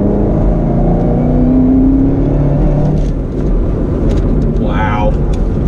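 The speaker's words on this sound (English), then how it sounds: "You hear that downshift?" 2019 Camaro ZL1 1LE engine on a track, a loud, dense roar up close with pitch sweeps as it downshifts and revs, tire and wind noise underneath throughout.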